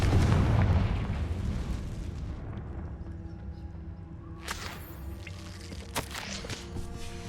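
A Confringo spell in Hogwarts Legacy goes off in a heavy booming blast that fades into a long rumbling tail, with a couple of sharp cracks and pops a few seconds later.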